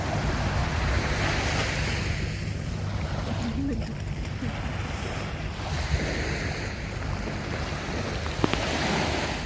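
Sea waves washing onto the shore in Odesa, a steady broad roar of surf with swelling and easing rushes, mixed with wind buffeting the microphone, loud and close throughout.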